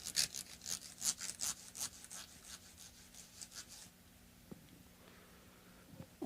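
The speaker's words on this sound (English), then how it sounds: "I'm done with the sandpaper" Fine-grit sandpaper rubbing over the frets of an Epiphone Chet Atkins guitar during a fret dress makes quick, rhythmic scraping strokes for about four seconds, then falls quiet apart from a couple of light knocks.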